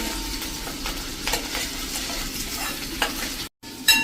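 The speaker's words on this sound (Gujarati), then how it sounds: "આને આપણે 1 મિનિટ આ રીતે તેલમાં કૂક કરી લેશું એટલે આપણું આદુ મરચાં સરસ સ્મેલ આવી જાય।" Ginger, green chillies and curry leaves sizzle in hot oil for a capsicum sabzi, a close crackling fry broken by spoon scrapes and stirring, briefly cutting out near the end.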